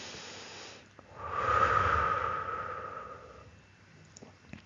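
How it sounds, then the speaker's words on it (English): A single slow, deep breath drawn in and let out during a calm guided meditation, a soft breathy hiss that swells and fades near and quiet with no talking. "Take a deep breath"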